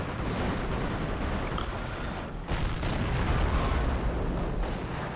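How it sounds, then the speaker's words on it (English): Anti-tank gun fire in Company of Heroes during an Operation Market Garden battle, heavy booms and blasts over a dense battlefield rumble, one louder report near the middle, no voices. "Never mind the anti-tank guns."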